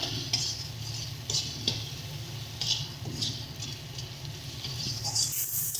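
Spice paste for a tomato-based bhola fish curry is stirred and fried in a pan, with soft rhythmic scraping strokes and a faint sizzle, quiet and close with no talk.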